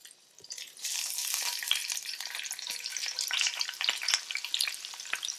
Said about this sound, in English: Now I'll add the onion and hot pepper.